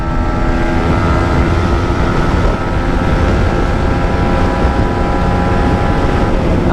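Yamaha MT-15 motorcycle, 2023 model, accelerating hard in fifth gear during a top-speed run, a loud steady engine drone blended with heavy rushing wind noise, continuous throughout.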